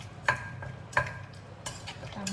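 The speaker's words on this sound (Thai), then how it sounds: "ตำให้เข้ากันทั้งน้ำตาลทั้งปลาร้านะคะ" Thai papaya salad pounded with sugar and fermented fish in a mortar, two sharp wooden knocks about 0.7 seconds apart, then softer scraping and stirring sounds, close and fairly quiet.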